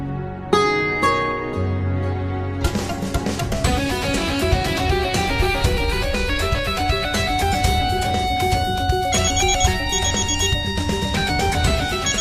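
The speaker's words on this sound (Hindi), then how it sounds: "किसका फोन आ रहा है?" An electronic phone ringtone plays a bright, repeating melodic tune, loud and close, with no voices over it.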